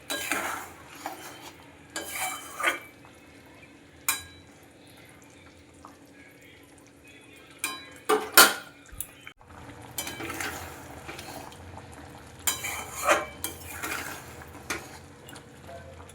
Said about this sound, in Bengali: এটা একটু ভালোভাবে ফুটিয়ে নেবো যতক্ষণ না গুড়ের কাঁচা গন্ধটা চলে যাচ্ছে।